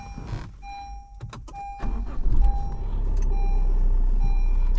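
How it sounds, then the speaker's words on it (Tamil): A new car's diesel engine starts inside the cabin amid electronic warning chimes, then settles into a deep, steady low rumble that grows stronger and holds. "டீசல் என்ஜின் ரோரிங்காக வருது அப்படியே"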